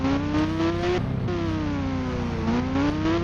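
Motorbike engine revving in the Indian Bikes Driving 3D video game, a steady loud whine that rises in pitch, drops sharply, then climbs and dips again, with no talking.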